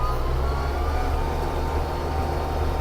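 A Mitsubishi MT-265 Japanese mini tractor runs in top gear at full throttle, its engine a loud, steady, close drone that holds unbroken throughout.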